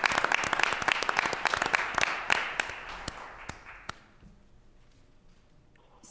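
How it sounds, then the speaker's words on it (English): A small meeting audience at a state board of education session claps for guests from a college of education, a sparse round of distinct claps that thins out and stops after about four seconds, leaving quiet room tone. "Let's clap for them"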